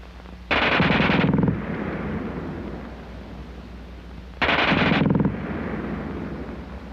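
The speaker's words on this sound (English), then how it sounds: "the German gun fires faster than anything you've run into before" German MG 34 or MG 42 machine gun, WWII-era, fired in two extremely rapid bursts about a second long each, loud and close and sounding like a continuous ripping roar, with echo trailing after each burst.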